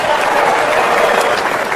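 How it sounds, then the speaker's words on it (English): Stand-up comedy audience clapping in a theater, a loud, dense, sustained round of applause from a large crowd, steady throughout with no voice over it. "Some of you are clapping"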